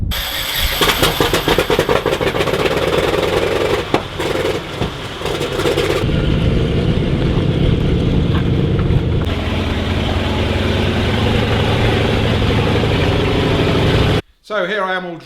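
A restored WWII Sherman tank fitted with a brand new engine roars loudly and steadily throughout, with a rough, heavy rumble, a shift in tone partway through, and a brief dip near the end; voices are faintly present.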